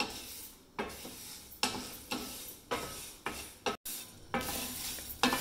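A spoon scrapes and stirs through dry urad dal roasting in a pan, with rhythmic rasping strokes and a soft sizzle, close and fairly quiet.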